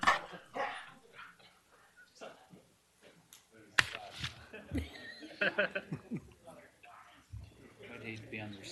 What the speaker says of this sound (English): now you can bark.